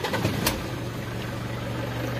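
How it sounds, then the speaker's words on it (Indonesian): An old diesel engine's starter in an old Toyota Innova cranks roughly for a moment, then the motor catches and settles into a steady low idle. "Motor starter jelek suaranya yo"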